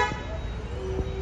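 A private luxury school bus arrives at a rural roadside stop near a cattle shed, sounding a steady horn toot over low traffic rumble, with faint voices in the background.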